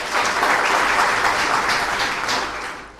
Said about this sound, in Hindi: सबसे पहले अपने लिए बजाइए तालियां